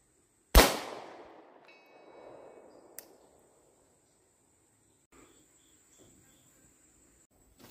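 A single Glock 26 pistol shot fired outdoors at a 200-yard target, one sharp loud crack followed by a fading rumble, then faint distant ticks and insect chirping in a quiet field.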